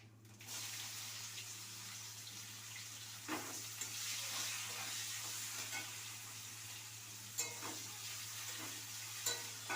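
Bay leaves and whole cumin sizzle in hot oil, a soft continuous frying hiss with a few brief clinks and stirring knocks over a low steady hum, fairly quiet throughout.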